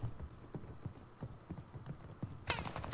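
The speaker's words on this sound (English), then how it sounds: "Wait, I hear footsteps!" Footsteps in Call of Duty: Vanguard, a quiet, regular run of thudding steps paced evenly throughout, with a sharp burst of noise near the end and no talking.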